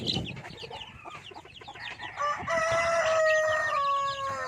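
Hens cluck and chatter nearby, then a rooster lets out a long, loud crow that carries over the flock.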